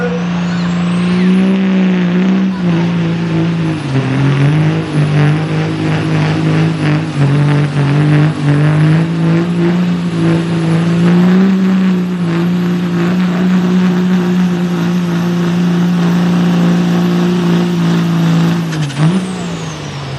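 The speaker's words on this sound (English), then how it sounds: "Got lots and lots of horsepower, just can't get a hold of the track at all." A high-horsepower drag race car at the Berryville Spring Nationals roars at full throttle, its loud, steady engine wavering as the tires lose traction on the track, then cutting off sharply near the end.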